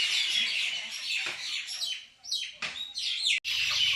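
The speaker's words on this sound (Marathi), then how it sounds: "पक्ष्यांचा कसा किलबिलाट" Many birds chirp and twitter at once at dusk as they settle to roost in large trees, a busy, high-pitched chorus, loud and continuous with brief dips.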